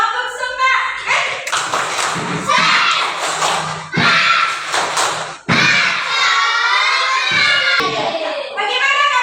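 A class of children does a rhythmic spirit clap chant, sharp clap bursts mixed with loud shouted voices, repeating in quick groups with short pauses between.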